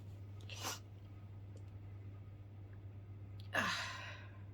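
Two short, sharp sneezes burst out at close range against a steady electrical hum in a quiet room, the second one stronger than the first.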